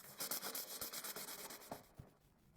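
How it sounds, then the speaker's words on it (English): A Ferrari 458 Speciale shell is wet-sanded with 500 grit sandpaper to remove orange peel in the clear coat. Quick, rhythmic rubbing strokes are heard up close and faint, slowing and thinning toward the end. "Sue uses the 500 grit sandpaper to sand the shell and remove any orange peel effect"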